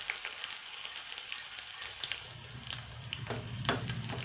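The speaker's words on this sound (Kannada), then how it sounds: "ಸಾಸೆ ಮೀನು ಚಟಪಟ ಪಂಡು ಬೆಳ್ಳುಳ್ಳಿನ ಪಾಡಿ" Mustard seeds crackle and splutter in hot oil while garlic goes in for a tempering of Tulu-style thetla kajipu, a steady faint sizzle with scattered sharp pops.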